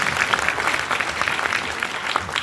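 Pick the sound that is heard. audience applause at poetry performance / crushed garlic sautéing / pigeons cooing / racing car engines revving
audience applause at poetry performance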